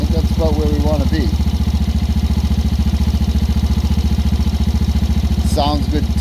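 A 2016 Yamaha Raptor 90 ATV engine runs steadily after carburetor cleaning and repair, with a loud, even idle putter throughout and a brief rise in revs; someone talks over it at the start and end.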